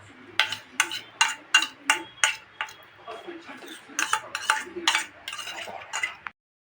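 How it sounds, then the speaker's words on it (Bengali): A spoon clinks repeatedly against a bowl while ginger garlic paste is mixed into a chicken tandoori marinade, the sharp taps coming in quick rhythmic runs before stopping abruptly. "এবার এর মধ্যে 3-4 চামচ আদা রসুন পেস্ট দিয়ে দিচ্ছি, দিয়ে এটাকে ফাইনালি এটাকে মিশ্রণটাকে আমি তৈরি করে নিচ্ছি"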